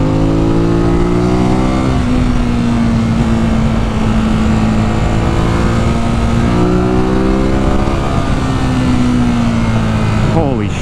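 A 2018 Ducati Monster 821 motorcycle pulls hard in second gear in Sport Mode, its loud engine note rising and falling in pitch as it accelerates steadily and close up.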